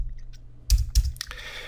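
Several sharp clicks from typing on a computer keyboard, a few spaced keystrokes close by with two louder taps, over a quiet background.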